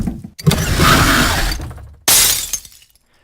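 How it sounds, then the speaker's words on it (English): Leaked Payday 2 game audio: a drawer slides open with a long rattling scrape, then glass shatters in a sudden loud burst that quickly fades, with no voices. "It sounds like a drawer was open and then glass broke."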